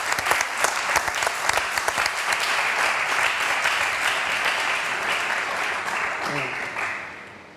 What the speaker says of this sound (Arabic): تصفيق على ريما